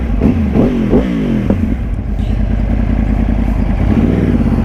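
A Yamaha YZF-R1 1000cc sport bike with a loud exhaust, stopped at a red light in Sydney, Australia, gives several quick, sharp revs early on and then settles into a steady, throaty idle close by.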